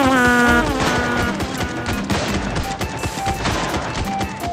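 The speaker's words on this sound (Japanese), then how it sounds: "スナイパーライフルで壊してみるかのう" Sniper rifle fired at a turret in a zombie survival video game: several sharp, punchy shots and impacts in quick succession over game music and effects, close and loud.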